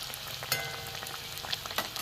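Jackfruit kachori made with semolina, flattened rice and flour deep-frying in hot oil, a soft continuous crackling sizzle with occasional brighter pops, fairly quiet.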